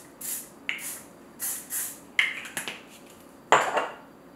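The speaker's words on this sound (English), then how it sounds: "forgot to use my memory mist again" Several short hissing bursts of memory mist hair spray on short hair during curling, spaced spritzes close to the mic with small clicks and clatter between them, no talking.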